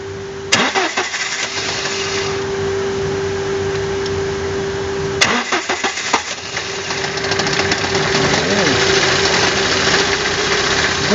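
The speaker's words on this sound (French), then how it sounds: "Vas-y, on peut démarrer le véhicule." A car engine with a power loss and a hard-starting problem cranks and catches. It settles into a loud, steady idle, then is restarted midway and runs on with a rough, uneven idle.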